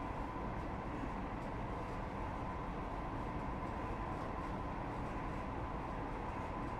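Simulated Class 158 diesel multiple unit running in Train Sim 2020, a steady, loud, continuous rumble and hum of the moving train with no pauses and no voices.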